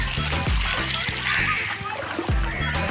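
Floodwater swirling through a village in light rain, splashing and sloshing close by and steadily across the whole stretch, with a few sharper splatters, under a busy outdoor background.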